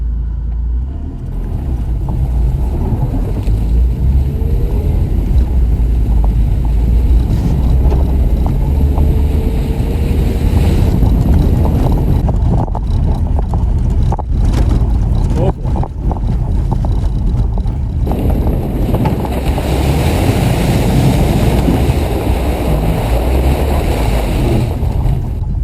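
A BMW E36 318ti driving off-road along a muddy trail, a steady low engine rumble with continuous churning and splashing noise, close and sustained, with a rougher rattling stretch midway.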